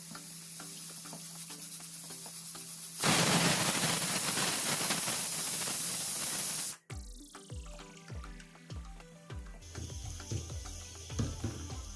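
A pressure cooker whistle lets off a loud rushing burst of steam for several seconds before cutting off sharply, followed by clattering and quieter hissing.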